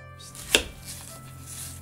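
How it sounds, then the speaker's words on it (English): A kitchen knife slices through an onion for a pressure-cooker pot roast, making one sharp, close chop that stands out against a quiet room. "Now let's go ahead and cut the onion."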